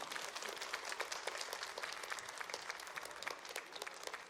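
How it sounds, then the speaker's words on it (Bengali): Steady crowd applause for the sponsors at a Toronto dance-theatre production, a dense wash of many hands clapping continuously, moderately distant and even. "একটু জোরে হাততালি হয়ে যাক আমাদের স্পন্সরদের জন্য।"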